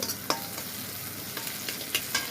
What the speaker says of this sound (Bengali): পেঁয়াজগুলো দিয়ে দিয়েছি, রসুন দিয়ে একটু একটু বেশি দিলাম, একটু ভেজে নেব।